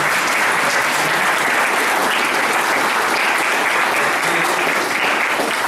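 Loud, dense applause from a school anniversary audience honoring the teachers, sustained clapping at an even intensity from start to finish.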